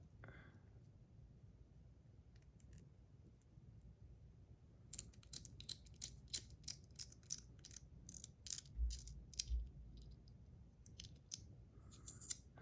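Packing tape pulled and torn off a roll while unboxing a stainless steel fidget toy, a burst of close, crackling rips and sticky clicks over a quiet low room hum, stopping and starting in short pulls.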